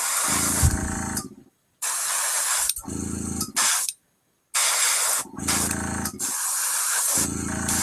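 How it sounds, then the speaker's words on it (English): Airbrush or spray can misting paint highlights onto tabletop miniatures, several separate hissing bursts of one to two seconds each, close and steady, with short silent gaps between them. "So I'm just gonna continue to spray these highlights on."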